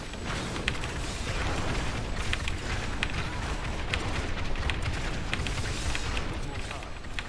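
Wizard's repeated explosions in Diablo 3 Reaper of Souls, a dense, steady crackling and bursting barrage with no pauses, loud and continuous throughout.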